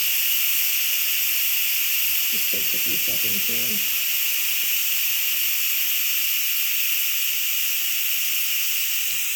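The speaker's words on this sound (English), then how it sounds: "So the steam does need to be released." Steady loud hiss of steam venting continuously from a mini electric pressure cooker, with someone briefly speaking over it partway through.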